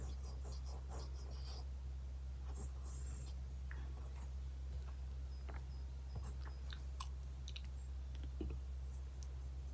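Pencil sketching on paper while drawing Spider-Man Miles Morales, with soft scratchy strokes and light clicks over a steady low background hum, fairly quiet and close.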